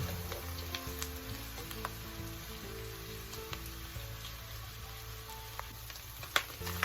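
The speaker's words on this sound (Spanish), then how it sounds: "Sofreímos alrededor de unos minutos, 2 o 3 minutos, hasta que vean que ya se va a empezar a dorar la carne." Beef browning in a pan for Cuban ropa vieja, a soft continuous sizzle with faint pops and light stirring taps throughout.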